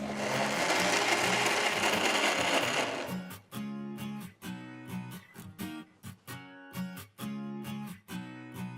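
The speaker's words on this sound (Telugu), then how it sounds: "ఆ తర్వాత కొన్ని నీళ్లు పోసి స్మూత్గా అయ్యేట్టు పిండిని రుబ్బుకోవాలి" For about three seconds, a kitchen mixer grinder runs with a loud, dense whir while it grinds urad dal with water into a smooth batter, then it cuts off into scattered clicks and brief tones.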